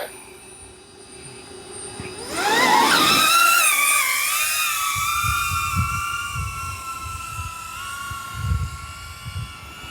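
An OddityRC Mage Pro FPV drone lifts off outdoors, its motors surging from idle into a loud, rising high-pitched whine that settles into a steady buzzing hover, with faint low rumbles underneath.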